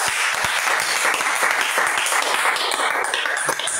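Church congregation applauding the Lord, a dense, loud and continuous round of clapping from many hands throughout, nearby and without voices.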